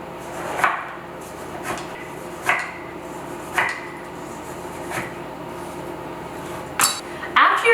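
A knife slices through pears on a cutting board, making about eight soft, separate taps at an irregular pace, each followed by a faint blade noise. A light clink of kitchenware comes near the end, and no one speaks.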